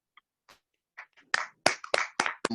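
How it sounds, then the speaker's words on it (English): A small group at a Toastmasters club meeting applauds a Toastmaster, starting with a few scattered claps that quickly build into brisk, close clapping. "Round of applause for you"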